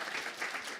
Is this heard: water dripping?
no